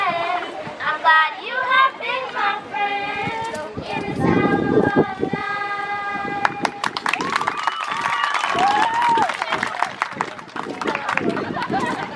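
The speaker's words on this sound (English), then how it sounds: "Give them another round of applause" A graduation-ceremony audience applauds a primary school choir, with scattered clapping swelling under singing and chatter before the clapping grows denser and more continuous.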